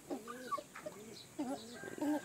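Newly hatched chicks and adult chickens cheeping and clucking close by in a backyard coop, several short rising calls in an uneven rhythm with quiet gaps between them.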